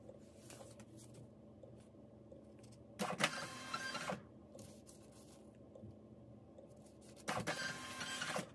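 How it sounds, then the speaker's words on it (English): A small label printer runs at a shop counter, a low motor whir broken by two bright bursts of feed and print noise, each lasting about a second, close and alone. "Let's print the labels."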